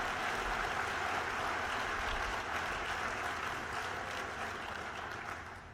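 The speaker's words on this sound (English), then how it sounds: "give them a round of applause" Sustained audience applause at a civic service event in Sioux City, a dense, even wash of clapping from a large crowd that carries on steadily before easing slightly at the end.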